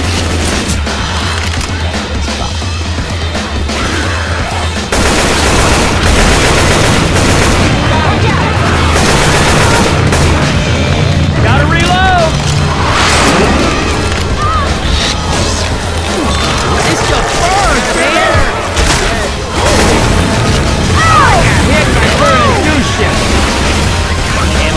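Gunfire in the zombie shooter Left 4 Dead 2, during The Parish campaign's bridge section, with repeated shots, crashes and blasts running through a dense, loud battle mix over most of the stretch.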